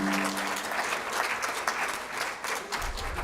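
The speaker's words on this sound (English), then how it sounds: "Please join me giving him another round of applause for both of them." An audience at a mental health forum gives a round of applause for the speakers, steady, dense clapping throughout.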